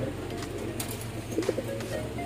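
Pigeons coo softly and steadily in a pigeon showroom holding imported pureline racing and crested pigeons, several nearby birds giving low repeated coos over a constant background hum.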